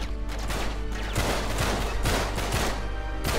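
Dense, continuous gunfire in Uncharted 3: Drake's Deception, rapid overlapping shots from several weapons forming a loud, unbroken fusillade with no pauses.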